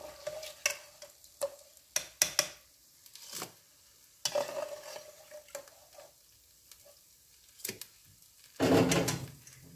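Fried almond briouats clatter and splash as they are dipped and stirred in honey, with scattered close clicks and soft sticky swishes, a louder burst of handling near the end, and no talking.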